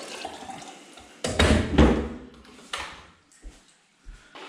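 Water splashes and pours into a bucket during beeswax clarifying, arriving in uneven bursts that swell, fade and stop, close by and fairly soft.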